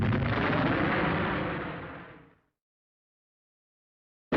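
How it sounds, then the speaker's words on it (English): A World War II German V1 flying bomb explosion: one loud, broad rumbling blast that fades away over about two seconds into silence, with a brief burst of sound right at the end. "the German V1 flying bomb, also called the buzz bomb"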